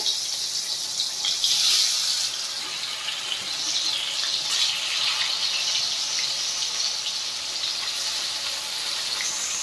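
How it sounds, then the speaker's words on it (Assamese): Fish pieces rubbed with turmeric and salt hiss in hot oil, a steady bright sizzle that surges early and again midway, close and moderately loud, with no talking. "এতিয়া মাছকেইপিচ দি দিওঁ ধুনীয়াকৈ।"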